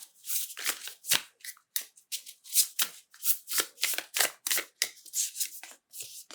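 Oracle cards being shuffled by hand, a series of crisp riffling and slapping bursts repeated in a steady rhythm, close and alone with no talking.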